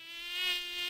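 A mosquito's high, thin whine, a single continuous buzz that swells closer and then eases slightly, heard alone without any talk.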